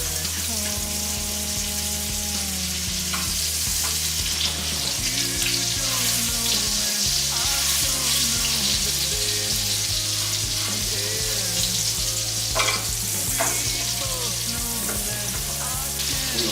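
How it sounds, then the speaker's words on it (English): Venison searing in a hot pan, a loud, continuous close sizzle and crackle that holds steady throughout, with occasional shifts as the meat settles and no talk. "we're going to let that sear for maybe 2 minutes on each side"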